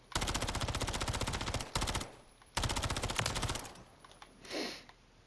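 Rapid submachine gun bursts in a first-person shooter, fired close and loud in long automatic strings with brief pauses between, then a softer burst trailing off at the end.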